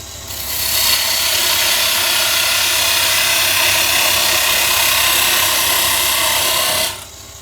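A wooden angel ornament being cut down with a parting tool on a spinning wood lathe, giving a loud, steady rasping scrape that holds for about six seconds before stopping.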